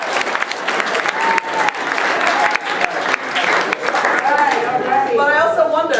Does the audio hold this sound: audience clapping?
yes